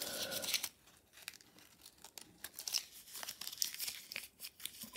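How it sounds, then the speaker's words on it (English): Paper is torn and crumpled up close after a pocket knife is unboxed, giving a run of sharp crackling rips and crinkles, loudest at the start, then scattered crunchy rustles with no talking. "let me get rid of this bit of paper."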